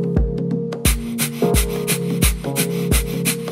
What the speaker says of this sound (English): breath of fire, which is a sharp exhale through the nose